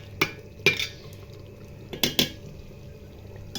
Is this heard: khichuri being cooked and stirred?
yes